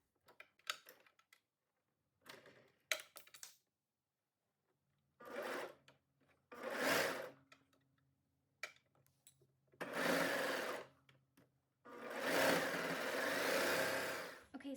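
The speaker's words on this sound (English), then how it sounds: "now that we've serged our 2 plackets on" A serger stitches plackets onto fabric in short whirring bursts, several separate runs of a second or two with quiet gaps and faint handling clicks between them, close and fairly soft.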